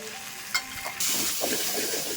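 Chicken gravy sizzling and being stirred in a pan with chicken masala and garam masala, a steady close hiss broken by a few scraping stirs.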